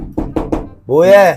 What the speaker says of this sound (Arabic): انا دقيت الباب